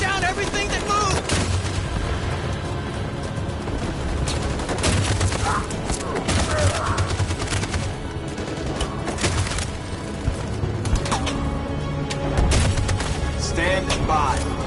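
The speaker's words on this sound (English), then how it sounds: "That machine gun is taking down everything that moves!" Heavy machine gun fire and surrounding gunfire in the video game Detroit: Become Human, loud and sustained through the whole stretch, with bursts and explosions layered over a dense battle din and shouted voices.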